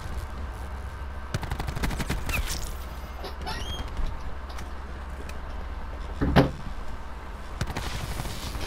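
Gunfire in the video game Black Ops 4, with scattered sharp shots and short bursts over a steady background hum, including one louder close crack near the end and no talking.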